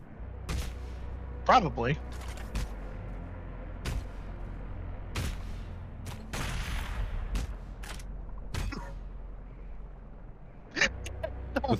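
Sharp gunfire bursts in a video game, a handful of separate cracks scattered through the stretch, with a player talking over them throughout.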